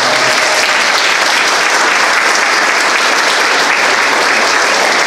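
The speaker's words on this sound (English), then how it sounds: "Give the police department a round of applause." Loud, sustained applause from a crowd at a mayoral candidate forum, a dense, steady clapping throughout honouring the Norcross Police Department.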